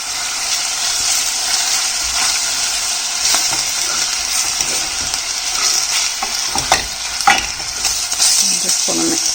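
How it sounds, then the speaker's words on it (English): Mincemeat sizzles steadily in a hot pan while a utensil scrapes and stirs it, with irregular clacks and scrapes over the continuous frying hiss, close up. "I just wanted to breaking that mincemeat up. It's a little bit noisy,"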